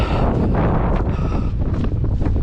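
Strong wind buffets the microphone in gusty, roaring bursts on a desolate Dartmoor hilltop, a loud low rush that fills the whole clip.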